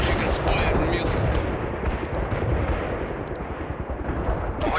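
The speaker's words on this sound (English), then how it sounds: "Mi-24 executing mission. Launching a spire missile." Mi-24 helicopter launching a Spiral missile in the war game World in Conflict, a loud, dense roar of rumbling blasts and gunfire with no clear break, under a busy battlefield din.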